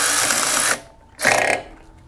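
Two short bursts of mechanical ratcheting, one long and one brief, from a wrench tightening the clutch adjuster bolt on a 2002 Yamaha G22 gas golf cart, close and fairly loud with a pause between.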